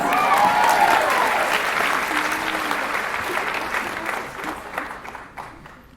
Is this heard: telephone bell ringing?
no